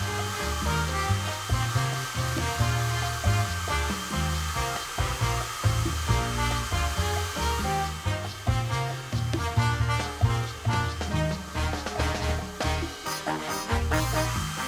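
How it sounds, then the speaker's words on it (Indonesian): A hair dryer blows with a steady airy rush across epoxy resin on a panel, mixed in under loud, busy background music that runs throughout. "ambil pengering rambut dan dengan hati-hati mulai tiup ombak yang kita lukis"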